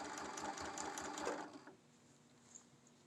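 A serger sewing machine runs a short back stitch on a zipper pouch, a fast rattling burst lasting about a second and a half before it stops, leaving quiet room tone.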